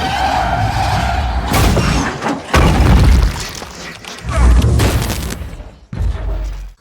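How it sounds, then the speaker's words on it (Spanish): A Lamborghini in a film scene skids hard and crashes off the road. Loud screeching tire squeals come in surges, broken by heavy booming impacts and crunching, with brief gaps between the bursts. "Stephen choca su auto y sale volando de la carretera."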